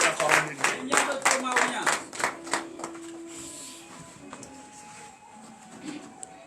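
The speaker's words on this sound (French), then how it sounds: "Donnez de vives acclamations à Jésus" Sharp rhythmic clapping from a church congregation at a Thursday morning prayer in Benin, a steady run of loud claps that thins out and fades, leaving a quieter room with faint voices beneath.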